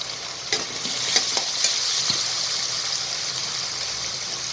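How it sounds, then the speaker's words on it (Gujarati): Green onions frying in hot oil with crackled mustard seeds and a pinch of asafoetida for vegetable upma, giving a steady close sizzle with a few light stirring clicks near the start. "હવે રાઈ તતડી ગઈ છે. હવે આપણે એમાં લીલી ડુંગળી નાખીશું."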